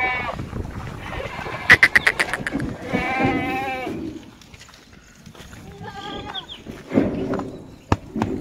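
Goats bleat in quavering bursts amid a busy livestock scene, fairly close and loud, with human voices talking around them and a few sharp knocks.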